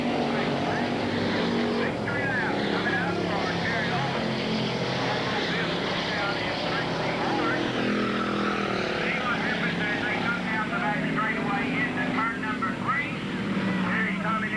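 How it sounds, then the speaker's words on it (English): Late model race cars roar around Ada Raceway in a dense, continuous wash of engine noise, with an announcer calling the race over the top. "1 lap to go for Terry Long"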